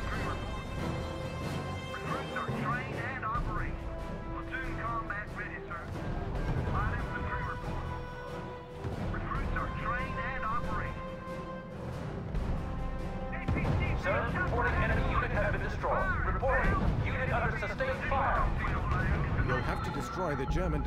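Battle din from the strategy game R.U.S.E. at Monte Cassino: rolling artillery booms and bursts of gunfire recur throughout, mixed under music and game voice reports, moderately loud and continuous.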